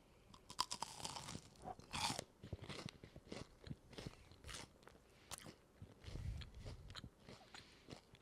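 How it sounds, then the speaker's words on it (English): Repeated crisp crunches as someone bites into and chews a crunchy caramel dulce de leche snack, close and fairly quiet, with irregular bites and chewing over about eight seconds. "I'm going to take a little bite without anything."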